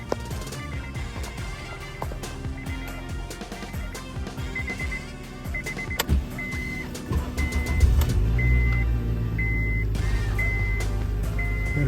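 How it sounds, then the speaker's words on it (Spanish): A 2006 Nissan Altima engine starts and settles into a steady idle, nearby and moderately loud, with a repeating electronic chime and clicks over the running motor. "Perfecto, prendió el carro a la primera."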